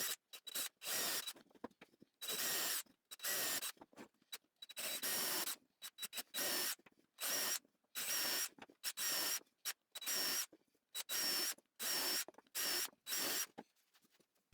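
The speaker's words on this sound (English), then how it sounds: "I pre-drilled the bigger pieces from under and the smaller pieces from the top." A power drill pre-drilling and driving screws into wooden bench pieces, heard as many short whirring bursts in a stop-start rhythm with brief silences between, fairly quiet and close, with no voices.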